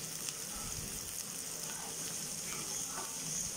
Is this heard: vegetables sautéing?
yes